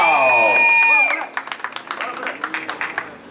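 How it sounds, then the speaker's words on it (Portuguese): Audience applause during a birthday tribute to a friend in Osasco: a crowd claps in quick scattered bursts after a brief voice, the clapping fairly close and lively for about two seconds. "Uma salva de palmas pra ela"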